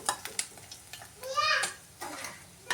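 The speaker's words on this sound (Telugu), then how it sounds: "ఇలా డీప్ ఫ్రై అవ్వాలండి, కరకరలాడుతూ ఉండాలి" Fish deep frying in hot oil until crispy, a soft sizzle with scattered clicks and stirring taps, a brief louder crackling burst in the middle, with someone talking over it.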